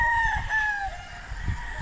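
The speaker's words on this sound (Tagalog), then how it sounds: "Ito yung manok namin na" A rooster on a Philippine gamefowl farm crows once in a long drawn-out call, clear and fairly close, over low background rumble and faint farmyard noise.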